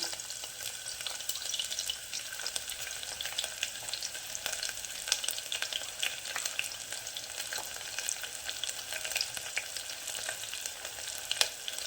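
Coarsely cut onions fry in hot oil with a steady, dense crackling sizzle, close and even throughout, occasional stirring scrapes beneath.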